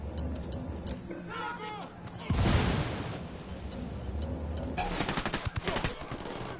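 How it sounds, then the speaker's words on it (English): PS4 shooter game combat with a frag grenade blast and gunfire, a dense burst of explosion noise followed by rapid crackling shots and background battle din, with a faint voice over the game audio. "Frag out."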